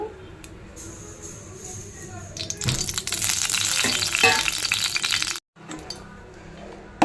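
Chicken pieces sizzle and crackle in hot oil in a pan for chilly chicken, with a rising burst of frying, clinks and stirring rattles, then a brief silence before softer sizzling resumes.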